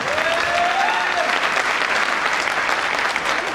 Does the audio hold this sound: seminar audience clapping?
yes